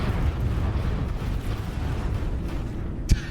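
Quad flak turrets in a space video game hammer away at enemy shields, a dense continuous rumble of rapid explosive bursts with one sharper pop near the end, loud and close.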